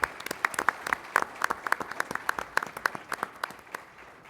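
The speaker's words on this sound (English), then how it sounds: "please join me in a round of applause for him doing this" A modest audience at a military leadership panel gives a round of applause, with individual claps standing out as distinct sharp hits over a thin background that thins out toward the end.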